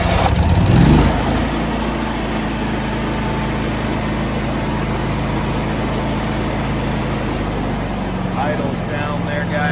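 Miller Trailblazer 325 engine-driven welder cranking over and firing, then settling into a loud, steady engine drone that runs on unchanged, with a short bit of speech late on.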